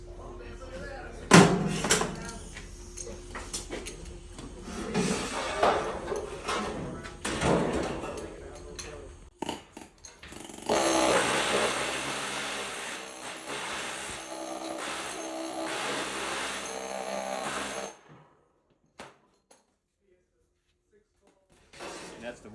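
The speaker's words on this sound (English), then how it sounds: "So what you do is you turn the air hammer on, you put your air protection on." An air hammer pounds a Pittsburgh seam flat on sheet metal while a return air pan is fabricated in an HVAC shop. Someone talks first, then a loud, dense burst of rapid hammering runs for several seconds and stops abruptly.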